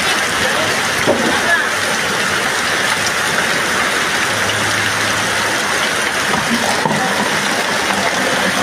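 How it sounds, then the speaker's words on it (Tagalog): Heavy rain falls in a continuous, dense hiss, loud and unbroken throughout with no clear pauses. "kusak-kusak talaga sa ulan"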